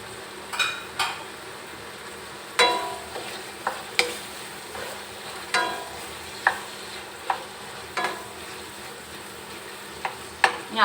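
Petai beans stir-fried in a pan with tomato and salted fish, with sharp spatula scrapes and clinks against the pan recurring every second or so over a steady low sizzle.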